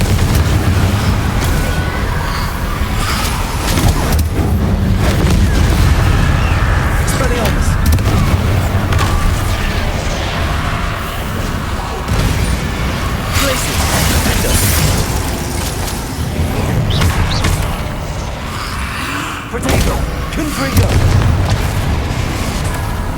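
Booming explosive blasts from a Confringo spell in the video game Hogwarts Legacy, loud and repeated amid constant battle noise, with a voice shouting spell names over the top.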